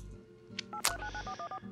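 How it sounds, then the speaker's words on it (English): Phone being dialed in the video game WILL: A Wonderful World: a quick series of clear keypad tones plays alone, with a short click partway through. "Ren would then make a phone call."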